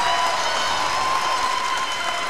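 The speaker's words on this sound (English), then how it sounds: "And the crowd goes wild." Crowd at a high school boys basketball home game, a dense, loud roar of applause and cheering that holds steady across the whole short stretch.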